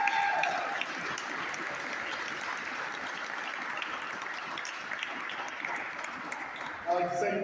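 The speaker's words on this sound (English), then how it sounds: "So give yourselves a round of applause." Audience members at a Democratic Socialists political gathering applaud themselves. A steady wash of clapping holds for about seven seconds, and a voice breaks in near the end.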